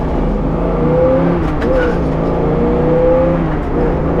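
A numbers-matching 1968 Chevrolet Camaro with a factory shift indicator pulls hard through its gears, giving a loud, steady engine drone whose pitch climbs as it accelerates, with no voices.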